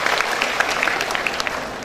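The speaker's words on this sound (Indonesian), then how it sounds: "tepuk tangan untuk para cum laude" An audience at an FKIP UNS undergraduate graduation ceremony applauds the cum laude graduates, producing a dense, continuous wash of many hands clapping.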